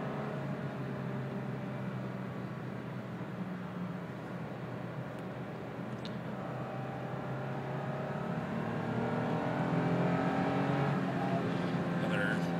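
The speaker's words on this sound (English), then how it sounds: "See a little full throttle blast." A Lexus IS350 engine revs hard at full throttle from around 4,000 RPM on an evening drive, a steady loud drone rising in pitch and intensity toward the end, heard from inside the car.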